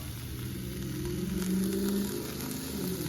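Ham frying in a pan for a simple stir fry, giving a steady sizzle that swells slightly midway and runs on its own without voices.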